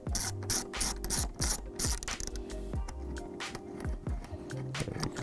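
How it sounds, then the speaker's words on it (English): A ratchet with a number 12 deep socket backs out the seat screws on a Honda Monkey 125 motorcycle, a close, rapid run of clicking pawl ratchets repeating in short bursts with no talk. "using a number 12 socket, deep socket, you're gonna take out the seat screws first"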